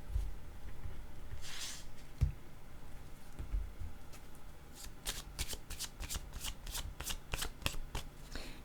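Playing cards are riffled and shuffled close by, starting with softer handling and a few taps, then a run of quick rhythmic card flicks, with no talking.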